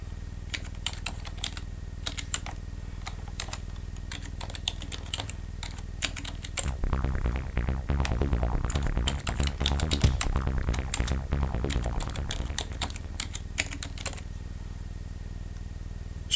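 Close, steady clatter of fingers typing on a computer keyboard while filling in an online profile, with a denser burst of keystrokes in the middle.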